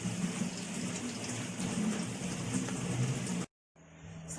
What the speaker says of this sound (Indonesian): pertama-tama kita mencuci ikan terlebih dahulu di air mengalir